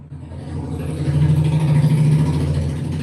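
A car passing on the road outside a closed gate, its engine a steady, fairly loud mid-pitched drone that swells toward the middle and holds with no talk over it.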